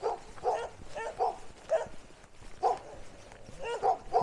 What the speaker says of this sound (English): I've been barked at by so many dogs today